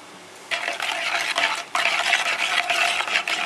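Yeast is stirred with sugar in a bowl, a steady scraping swish of a spoon that starts after a short quiet moment and keeps going with brief dips, close and alone with no talk.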